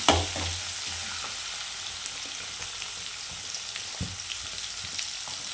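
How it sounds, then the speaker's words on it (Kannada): Onion fries in hot oil in a pan with a continuous close sizzle, broken by an occasional stirring scrape, and no voices. "ಸ್ವಲ್ಪ ಈರುಳ್ಳಿ ಹಾಕ್ತಾಯಿದ್ದೀನಿ ನೋಡಿ"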